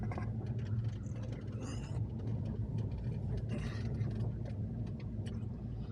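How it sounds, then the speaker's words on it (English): A truck rolls along back roads past orange orchards and cornfields near Lago Vista, its engine a steady, close low rumble that holds without a break throughout. "I'm driving the back roads of Lago Vista."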